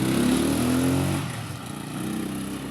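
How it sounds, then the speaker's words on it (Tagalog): A motorcycle with a rebuilt sidecar reinforced with enlarged steel bars runs on a test drive, its engine droning steadily and loudly close by, then easing off briefly before picking up again. "ipapatorda na ang sidecar."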